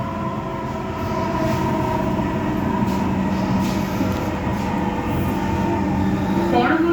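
A Dhaka Metro Rail train rumbles steadily from inside the car, a loud continuous drone with humming motor tones and faint squeals, while voices are heard faintly beneath the noise.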